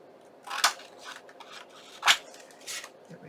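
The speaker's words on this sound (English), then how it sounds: "And then I'm going to trim it off." Scissors trimming paper for a journaling card, two crisp close snips with softer paper rustles and handling between them.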